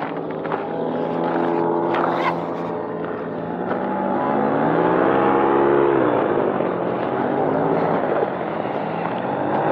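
A steady droning engine hum, likely a powered paraglider flying over frozen Lake Baikal, holding loud and even with a slowly shifting pitch and no talk.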